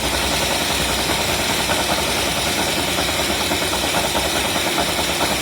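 A carburetted engine, revved fully until it stalls, runs loud and steady at high revs, a dense mechanical roar with a slight rattle, close up, no voices.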